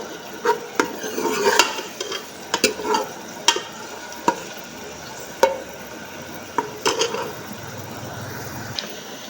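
Onions frying in ghee in a pan: a soft, steady sizzle with scattered clinks and scrapes of a spoon stirring, fairly close and moderately quiet, with no voices.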